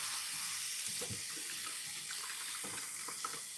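Tap water runs steadily and faintly into a sink while greens are rinsed, with a few soft splashes and handling sounds over the flow.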